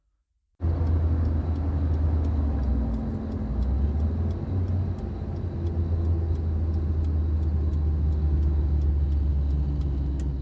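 A car engine rumbles steadily close by after a sudden start, a continuous low drone that holds for about ten seconds with slight swells as the vehicle moves off, no voices.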